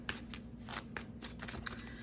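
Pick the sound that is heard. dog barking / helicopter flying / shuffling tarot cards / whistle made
shuffling tarot cards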